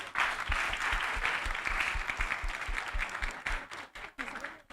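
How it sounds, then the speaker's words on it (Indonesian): An audience applauds for Kak Umay at a campus festival event, steady dense clapping from a crowd that thins out toward the end. "Boleh aplaus dulu buat Kak Umay"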